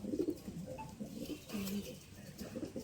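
Pigeons coo softly in short repeated phrases as they are released, fairly faint and close, with no talk over them.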